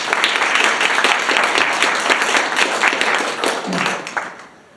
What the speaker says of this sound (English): Another round of applause for Sophie